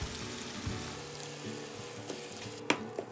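Meat simmers in a pan on very low heat, giving a soft continuous sizzle and bubbling heard close, with a few light clicks and a sharper knock near the end.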